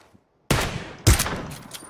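Gunshots in the video game PUBG Battlegrounds land a headshot: two loud, sharp reports about half a second apart after a silent start, each leaving a ringing tail.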